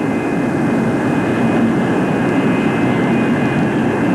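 Steady, loud roar of a Convair F-102 jet airplane racing along the ground at high speed, a continuous broadband rush with a droning engine tone and no pauses.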